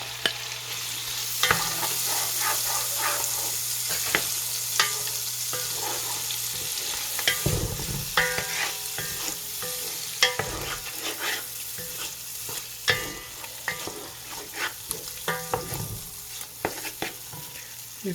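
Shrimp frying in a pan for a vegetable stew, a steady close sizzle with scattered utensil scrapes and stirring clicks throughout and a low hum underneath; no one speaks.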